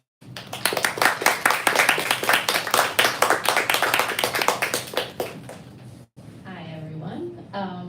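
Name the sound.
audience applause welcoming poets at a bookstore reading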